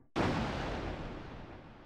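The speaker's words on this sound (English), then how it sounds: "why did it make a gunshot noise?" A single loud gunshot-like blast from a retro video game when it starts, hitting sharply and then trailing off in a long, noisy decay with no talk over it.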